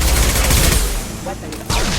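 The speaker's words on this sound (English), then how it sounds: "Taking heavy fire!" Heavy gunfire in the PC video game Mass Effect 2, dense overlapping automatic shots and blasts in a loud continuous fusillade, with brief game voices mixed in.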